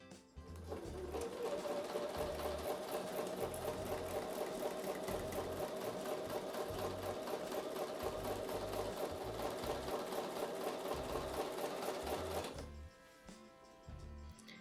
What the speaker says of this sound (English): So I'm going to take that over to the sewing machine and sew with a 1/4 inch seam.